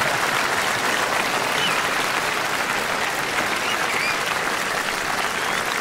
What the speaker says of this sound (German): Jetzt müssen Sie so lange klatschen, bis er runter ist.